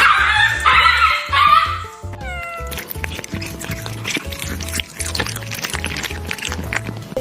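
A puppy yips, barks and whimpers in short repeated bursts close by, with some higher squeals mixed in over a busy indoor background.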